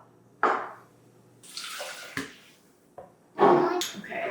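Tap water runs into a kitchen sink during kunafeh cooking, coming in short splashing bursts between brief knocks and clatter, close and fairly loud against an otherwise quiet room.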